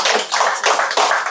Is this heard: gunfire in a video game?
no